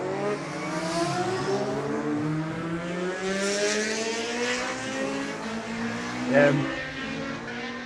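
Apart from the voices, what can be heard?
Kawasaki 750 racing motorcycle leaving the start line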